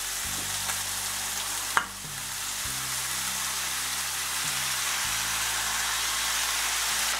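Onion sizzles and fries steadily in a pan for pork goulash, a close, even crackle that holds throughout, with a single sharp clink early on.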